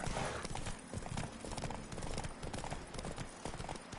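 Horse hooves clip-clop steadily and up close while riding in the video game Witcher 3, a brisk continuous trot that runs the whole time without talk.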